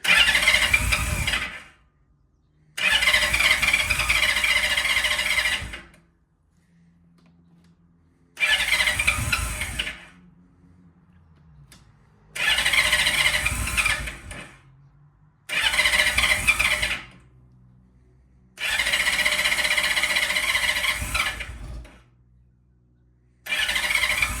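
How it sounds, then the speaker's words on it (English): A Yamaha Valkyrie motorcycle's starter cranks in six long, loud bursts separated by short silences, with choke up and fuel on, never catching or settling into an idle. "the choke is up, turn the gas on. And with that, let's see how it starts."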